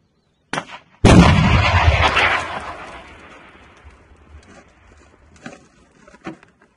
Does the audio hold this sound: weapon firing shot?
yes